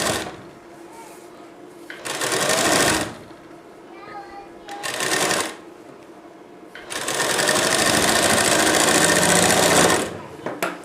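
A sewing machine stitches the armhole of a blouse in three bursts, a short run, another short run and then a long steady run, with someone speaking in the quiet gaps between them.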